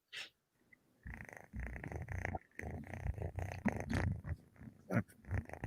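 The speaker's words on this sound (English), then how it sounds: "I thought I heard purring" A kitten purrs close and fairly loud, a rough, pulsing rumble that starts after a brief pause and continues with uneven breathy swells.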